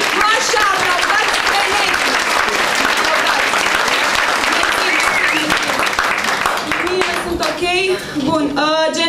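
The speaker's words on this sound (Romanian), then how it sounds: "La semnul meu, vă rog, aplaudați." Theatre audience applauding on cue during a storytelling show, dense sustained clapping from many hands for about eight seconds, tapering near the end as a voice briefly speaks over it.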